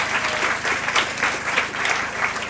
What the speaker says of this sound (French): je vous demande déjà de l'applaudir